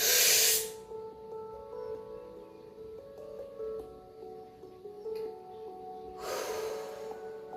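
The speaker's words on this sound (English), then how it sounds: "Nice deep inhale." Two long, breathy inhales, one at the start and another near the end, rise over soft, sustained tonal music during a calm breathing exercise.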